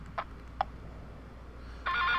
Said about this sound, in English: Pretty much every single one of these ringtones are pretty annoying.